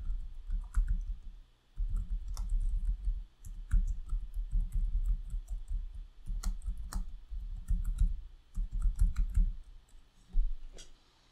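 A computer mouse clicks and a keyboard is typed on during a Wolfram Mathematica software session, with bursts of quick key taps broken by short pauses and sharp single clicks, fairly quiet and close, with no one talking.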